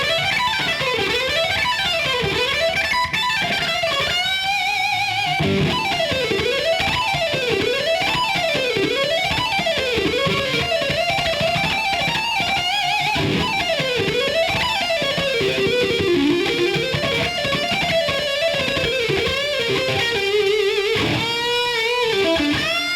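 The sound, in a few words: electric guitar G Mixolydian lick with hammer-ons and pull-offs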